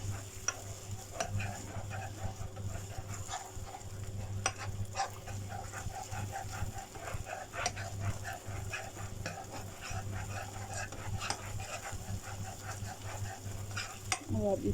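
A soy sauce and ketchup sauce thickens in a pan while being stirred, giving repeated scraping and tapping strokes over a soft sizzle and a faint steady hum.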